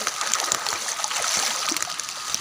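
Broad hiss of flowing stream water fills the short stretch, continuous and fairly close, with small gurgles and splashes scattered through it.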